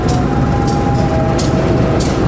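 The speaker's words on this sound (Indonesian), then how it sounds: "Dia papasan sama kereta Cikurai" The Cikurai passenger train rushes past on a line near Bandung, a loud, continuous rumble of wagons with sharp periodic clatters as cars go by close at hand.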